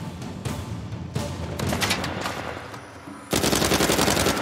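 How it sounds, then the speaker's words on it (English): Rapid automatic gunfire crackles in Uncharted 4: A Thief's End on PS5, bursts of loud shots rattling throughout and intensifying into a dense, sustained volley at the end. "Who are we firing at?"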